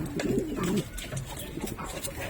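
Pigeons coo in a fancier's loft, a low throaty warbling call near the start followed by softer cooing and faint rustling, close and fairly quiet with no talk.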